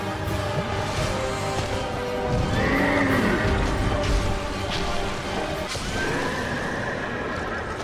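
Executioner's Chariot horse in Dark Souls II neighing loudly, a long whinny over rumbling hoofbeats and clattering chariot noise, with a second shorter neigh following a few seconds later.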